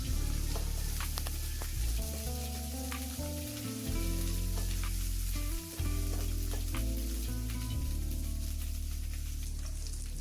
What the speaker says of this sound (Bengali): এবার আদাটাকেও আমি একটু মশলায় ভেজে নেব